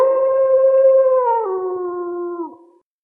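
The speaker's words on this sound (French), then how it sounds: "Un hurlement de loup sur ma gauche me fit sursauter" A single wolf howls in a horror story sound effect, a loud, clear, drawn-out tonal wail that holds steady, dips in pitch partway through and fades out at the end, alone with no talking.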